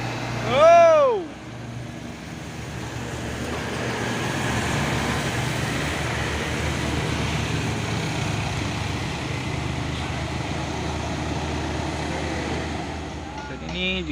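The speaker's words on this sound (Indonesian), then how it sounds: "truk trailer Hino 500 membawa kontainer, membawa peti kemas melewati tanjakan Bukit Kodok" A Hino 500 trailer truck hauling a shipping container climbs Bukit Kodok hill at midday, giving a sustained rumbling roar after a short wavering horn-like tone, with a voice talking over it.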